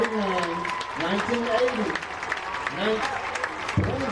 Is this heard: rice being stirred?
no